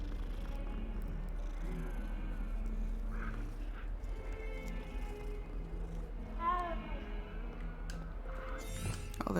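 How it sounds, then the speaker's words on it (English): Cats meow in a Hogwarts video game, a few short, high mewing calls rising over steady game music and ambient background sound. "Kitty! Hi, kitty cat."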